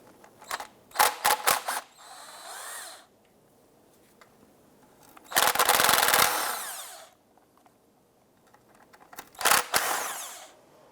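Transmission pan bolts being removed on a 2005-2007 Ford Five Hundred, with short whirring bursts from a power tool separated by quiet gaps, including one longer sustained run, close and loud.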